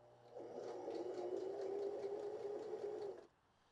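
A BabyLock Joy BL25B sewing machine runs steadily for about three seconds while stitching a buttonhole bar tack, a close, even mechanical whir that stops abruptly and leaves a quiet room.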